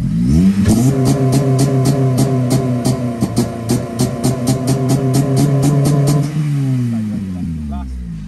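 A mapped Honda Civic Type R FN2 engine holds a high, buzzing rev on launch control, with rapid rhythmic limiter stutter for about six seconds before the revs drop and settle. It is loud and close.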